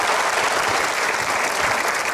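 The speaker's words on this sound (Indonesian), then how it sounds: "Kita berikan aplaus sekali lagi." An audience applauds loudly and steadily, a dense wash of clapping that fills the hall without pause, with no voices rising above it.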